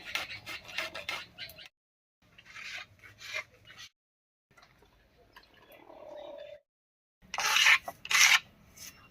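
Pointed gourd (potol) is rubbed against a grater in a home kitchen, making bursts of rasping, scraping strokes separated by short pauses, fairly close and moderately quiet.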